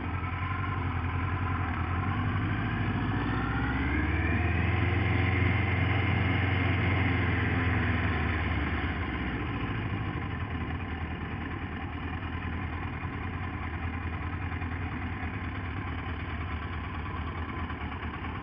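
A motorcycle engine idles steadily close by, a continuous low rumble that swells briefly in pitch partway through as the revs lift, then settles back to an even idle with no talking.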